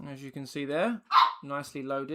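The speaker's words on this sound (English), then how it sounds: "That's my dog barking in the background." A dog barks once in the background, a short sharp burst that cuts between a man's close, steady speech.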